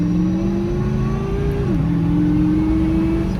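A Dodge Charger R/T fitted with a 3.0 Whipple supercharger revs steadily and loudly up close, its engine note holding high, dipping briefly, then settling again with no voices over it.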